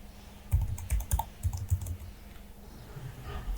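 Typing on a computer keyboard in a short burst of clustered clicky keystrokes, close and clear, then trailing into quiet with a few faint taps.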